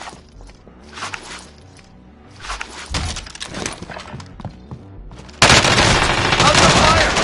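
Gunfire in the battle royale shooter Warzone, scattered shots and bursts under the close thumps of movement, then a sudden loud sustained barrage near the end.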